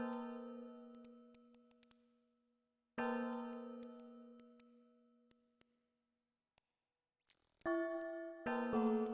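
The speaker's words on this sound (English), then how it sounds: "Annoy everyone by just ringing the bells." Bells ring out in the video game Ultima VII: Serpent Isle. Several struck, harmonic tones each fade slowly, followed by a brighter, quicker double ring near the end.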